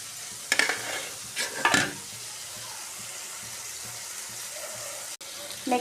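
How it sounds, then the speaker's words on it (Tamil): Curry leaves being sautéed in a pan: a quiet steady sizzle with a few louder bursts of crackle and stirring early on, then a low simmering hiss with occasional scrapes. "நெக்ஸ்ட்டு கருவேப்பிலை தேவையான அளவு போட்டுக்கலாம். போட்டு வதக்கிக்கோங்க."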